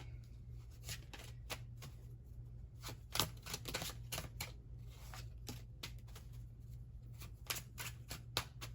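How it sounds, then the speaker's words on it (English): A tarot deck riffles and snaps in repeated quick bursts of shuffling, close up and crisp, with brief pauses between rounds over a steady low hum. "let's go ahead and shuffle up the tarot deck really quick"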